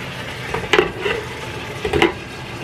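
Taco meat with seasonings cooks in a Presto electric skillet under a soft constant sizzle, with two close bursts of scraping and stirring from a utensil against the pan.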